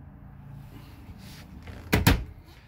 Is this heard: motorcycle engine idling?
no